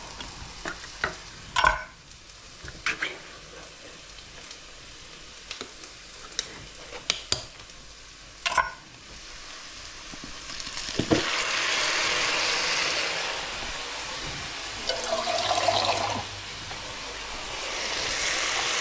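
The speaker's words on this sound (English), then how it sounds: "So I'm just going to add 2 tins of peeled tomatoes." Peeled tomatoes from two tins tipped into a pan and stirred for Hungarian meatball sauce: sharp tin clanks and taps, then a wet pour and soft sizzling stir.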